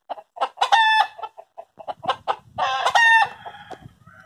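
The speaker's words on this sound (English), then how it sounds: "The chickens are agreeing." Chickens and a rooster on a farm with a large star apple tree cluck in loud, close bursts with some crowing-like calls, several calls spread across the stretch alone without talk.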